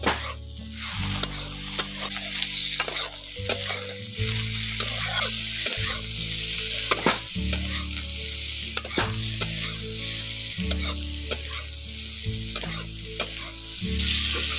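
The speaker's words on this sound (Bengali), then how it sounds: "এখন পেঁয়াজটা দিয়ে ভালো করে নাড়াচাড়া করে একটু মিশিয়ে নিচ্ছি" Chopped onions sizzling loudly in a hot pan for a soybean and egg dish, stirred repeatedly with a spoon that scrapes and clinks at a steady rhythm over the constant frying hiss.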